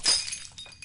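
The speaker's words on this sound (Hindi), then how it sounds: "अरे गिलास फूट गया।" A drinking glass shatters indoors with a bright, sharp crash, and a few small tinkling fragments follow in a quick, fading scatter.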